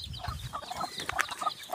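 Broody village hens cluck softly and irregularly close by, with a few brief higher squawks mixed into low rustling.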